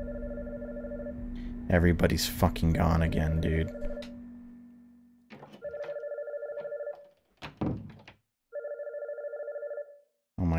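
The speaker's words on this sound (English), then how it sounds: "Is that a phone ringing?" A telephone rings repeatedly in the indie horror game Blank Frame, its bursts of electronic ringing separated by pauses, with someone talking loudly over the first ring.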